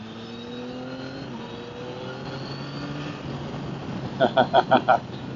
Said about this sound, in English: We'll see what this bike is like to accelerate as we go around this corner.